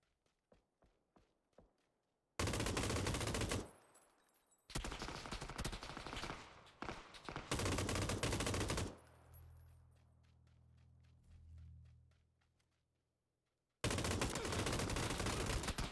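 Loud gunfire from the PUBG video game played on PS4, with bursts of shots that fill long stretches and a rumbling low tail in between, preceded by a few light, sharp clicks.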